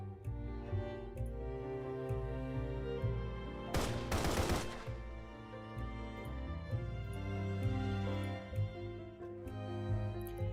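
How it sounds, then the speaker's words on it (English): A short, loud burst of rapid gunfire from the video game Path to Nowhere, lasting about a second, sits over a steady musical soundtrack that plays on throughout. "They hear a hail gunfire and scream outside the door, followed by silence."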